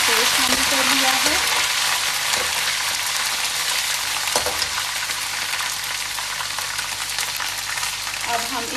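Ginger garlic paste fries with golden brown onions in a pan, giving a continuous lively sizzle with occasional stirring scrapes and clinks close by.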